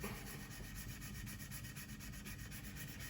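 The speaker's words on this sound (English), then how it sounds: "I'm using the water so my sanding sponge doesn't get clogged up" Steady, continuous wet rubbing of a sanding sponge on a Tamiya 1/32 P-51D model kit, a soft gritty scrubbing in an even back-and-forth rhythm, close and moderately quiet with no talk.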